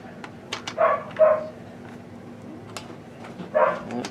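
Dog barking nearby, a few short sharp barks in two quick clusters with a pause between, in a quiet outdoor setting.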